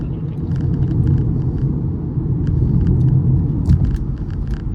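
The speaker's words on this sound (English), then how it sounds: "There's a little bit of turbo lag at the beginning. After that, it will continue pushing." A 2025 BMW 330i M Sport's turbocharged engine pulling hard under acceleration, a deep, steady rumble building with road and wind roar from inside the cabin, no talk.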